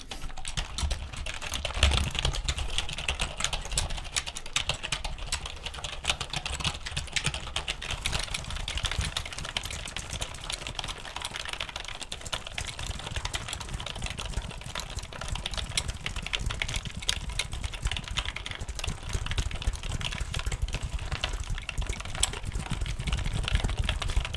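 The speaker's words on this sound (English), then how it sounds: "the classic traditional keyboard sounds" Steady, fast typing on a classic traditional computer keyboard in an ASMR setting, with dense continuous clicking running the whole way through at close range, no voice heard.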